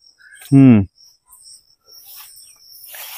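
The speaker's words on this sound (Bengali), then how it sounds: "এখানে ঝিঝি পোকা ডাকছে।" Crickets chirp outdoors among trees in faint, high, intermittent trills, briefly interrupted early by a short loud voice.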